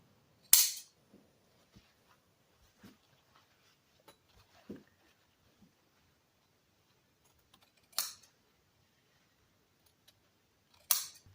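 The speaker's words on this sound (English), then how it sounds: "I'm just going to take my upholstery shears here, and I'm just going to go ahead and cut this shape out" Upholstery shears cut blue plaid tartan fabric in a quiet room, giving sparse, soft snips and small clicks, with a few sharp, louder snaps spread through the clip.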